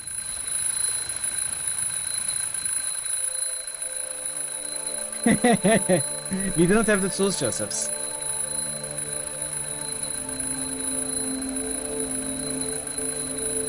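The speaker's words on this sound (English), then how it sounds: "A clock? An alarm clock?" An alarm clock rings in the video game The Dream Machine, two short metallic bursts cutting loudly over a steady musical drone, with a voice speaking before and after.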